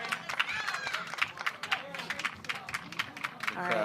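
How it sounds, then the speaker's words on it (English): A pickleball match crowd at the Red Rock Open breaks into cheering and scattered applause, a lively mix of clapping and voices heard from inside the audience, with commentators talking over it. "A lot of fans cheering for the Brascias."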